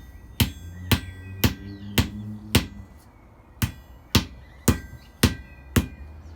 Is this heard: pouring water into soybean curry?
no